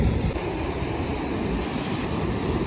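At a river mouth, rapids where fresh water meets the sea give a broad, continuous roar of churning water, close and loud, with wind buffeting the microphone and no talking.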